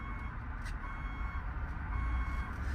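A backup sensor beeps as a 2023 Ford Transit wheelchair van reverses, the quiet electronic tones sitting over a low engine rumble, with no speech.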